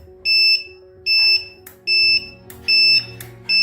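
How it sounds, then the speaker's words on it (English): Buzzer on an advanced electronic voting machine sounds as votes are cast: five loud, even electronic beeps of about a third of a second each, spaced roughly every 0.75 seconds, close and clear over a faint background hum. "The buzzer rings and LEDs light when I vote."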